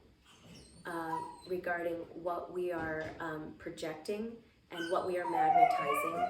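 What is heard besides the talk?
dog barking and howling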